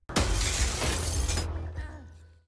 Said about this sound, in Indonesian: dia bisa membekukan pintu kaca kerasnya dan menghancurkan kacanya.